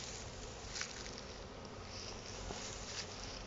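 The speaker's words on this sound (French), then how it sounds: "Et à côté, je viens de récupérer un petit essaim." A small, freshly collected honeybee swarm hums beside the hive frames of a small nucleus hive, a steady, close, continuous buzz with no talking.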